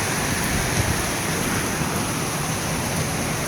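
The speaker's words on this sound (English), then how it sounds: "Well, it hasn't stopped raining" Steady rain falls continuously outdoors in a garden near a chicken pen, a dense, even hiss with no breaks and no voices.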